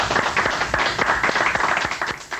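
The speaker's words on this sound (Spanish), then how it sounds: "Aplausos, señores." Applause from a studio audience at a 1987 Chilean national television interview, dense clapping filling the short stretch at a steady level with a faint voice underneath.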